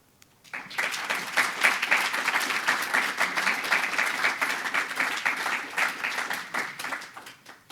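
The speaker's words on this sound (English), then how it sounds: "I'll stay here longest for the applause." An audience at a launch event in The Hague breaks into sustained applause after a short silence, a thick, steady wash of clapping that continues for several seconds before tapering slightly at the end.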